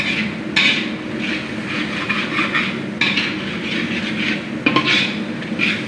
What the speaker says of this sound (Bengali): এবার মরিচটা আমরা কষাই নেব, মরিচ পেঁয়াজ একটু কষাই নেব।